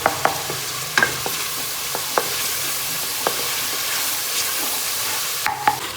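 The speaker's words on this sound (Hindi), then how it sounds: "पहले इसमें खड़े मसाले डाले थे, उनको थोड़ा फ्राई किया, लहसुन प्याज और टमाटर डाला था हमने, उसको जो है हम फ्राई कर रहे हैं" Masala of whole spices, garlic, onion and tomato fries in mustard oil with a steady, close sizzle, broken by occasional scraping and clinking stir strokes of a spoon against the pan.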